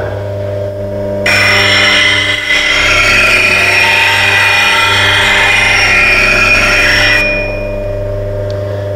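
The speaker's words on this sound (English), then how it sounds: "Using the top of the wheel, gently rotate the tool from side to side." A woodturning gouge grinds against the top of a spinning grinding wheel as it is rocked side to side to form a multi bevel, a bright sustained scraping hiss over the motor's steady hum, near and loud.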